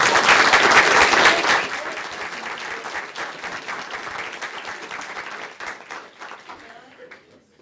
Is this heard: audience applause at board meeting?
yes